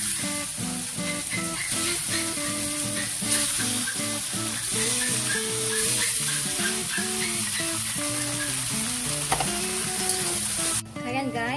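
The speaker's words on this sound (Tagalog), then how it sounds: "kailangan lang natin maigisa mabuti sa mantika ang ating pork meat" Pork sautéing in hot oil with tomato, garlic and onion for pork menudo, a loud steady sizzle with rhythmic stirring scrapes running throughout, close up.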